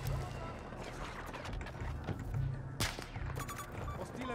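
Sniper rifle shots in Battlefield 2042 crack out sharply, with one especially strong shot near the middle and lighter reports around it, heard under a steady game-noise background while someone talks.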